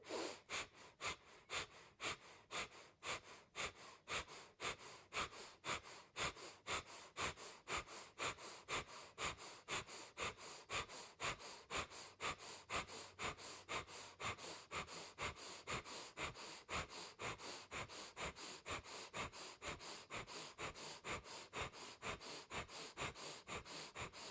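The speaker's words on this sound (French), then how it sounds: "Inspirez, levez et puis respiration du feu." Breath of fire, the rapid Kundalini yoga breathing, comes as fast rhythmic nasal exhalations at about two per second, held steadily for over twenty seconds, close and quiet, with no talking.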